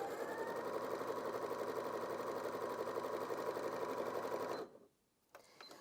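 A Janome DKS30 sewing machine runs a zigzag stitch at 3 mm width and 1.5 mm length, giving a close, steady, fast mechanical whir for several seconds before stopping abruptly, followed by a few small clicks.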